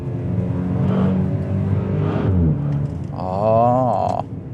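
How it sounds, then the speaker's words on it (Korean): The four-cylinder hybrid engine of a Maserati Levante GT Hybrid SUV revs hard at full throttle and climbs steadily in pitch, the tone rising and sharpening as the throttle stays open, loud and close. "확실히 가속 페달을 끝까지 밟고 엔진 회전수를 끌어올리니까 훨씬 더 날카로운 사운드가 들립니다"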